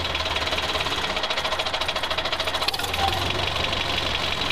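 A toy mini tractor drives along with a steady, fast buzzing motor and a rattling, knocking rhythm, continuous and fairly close, with no talking.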